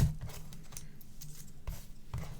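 Card stock gets trimmed to size for a washi tape card, with soft slicing and scraping strokes and a few light thuds as the paper is handled, close and fairly quiet.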